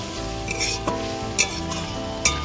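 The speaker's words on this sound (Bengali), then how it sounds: "শাক ভাজা হয়ে গেছে এবার আমি তুলে নেব" Susuni greens fry in a pan with a continuous, close sizzle. A few sharp scrapes and clinks from the spatula stand out at intervals.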